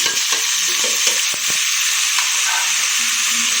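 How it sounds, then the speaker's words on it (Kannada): Onion, tomato and fenugreek leaves fry together in oil, giving a steady close sizzle and hiss broken by soft scraping stirs and a few sharp clicks of the spoon against the pan, with no talking. "ಈರುಳ್ಳಿ ಸ್ವಲ್ಪ ಫ್ರೈ ಮಾಡಿದ್ಮೇಲೆ ಟೊಮೊಟೊ ಮತ್ತು ಮೆಂತ್ಯ ಸೊಪ್ಪು ಒಟ್ಟಿಗೆ ಹಾಕ್ತಾಯಿದ್ದೀನಿ"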